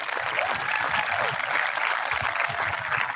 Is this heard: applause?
yes